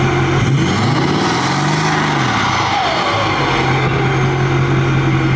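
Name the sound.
6.4 diesel truck engine revving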